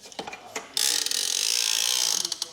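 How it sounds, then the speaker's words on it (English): The arm of a Kuat Piston Pro three-bike hitch rack ratchets down into place, a quick run of close, sharp mechanical clicks after a few light knocks. "And it'll ratchet down into place."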